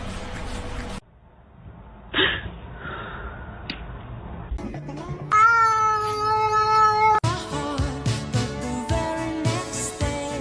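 A pet cat meows several times, loud and close, between abrupt cuts and stretches of background music.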